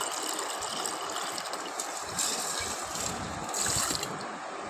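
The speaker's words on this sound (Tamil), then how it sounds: "பாருங்கள் வடிகட்டிடுவோம்." Jaggery water for panakam being poured through a strainer gives a steady, close liquid trickle and splash with faint clinks of the utensil, continuous throughout.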